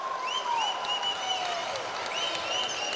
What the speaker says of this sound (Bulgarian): Балканци и юнаци се скандира от публиката.